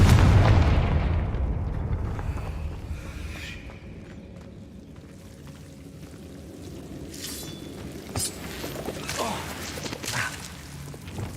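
Confringo blasting spells in the Hogwarts Legacy video game: one loud booming explosion opens, then a long rumbling decay, with a few smaller pops and bursts near the end.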